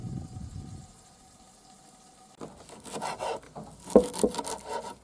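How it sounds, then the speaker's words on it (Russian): A knife chops fresh parsley on a wooden board for a kazan dish, a soft rubbing scrape giving way to a quick series of close, crisp chops and knocks. "режем петрушечку и будем добавлять еще в наше блюдо"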